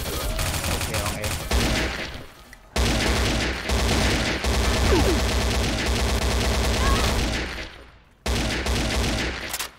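Automatic rifle fire from an AK in the shooter game XSHOT, loud close bursts repeating across the clip with two brief pauses where the shooting stops.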